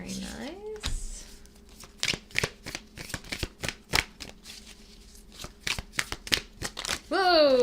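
A slippery deck of reading cards being shuffled, a run of quick crisp riffles and snaps close by, with a voice talking at the start and end.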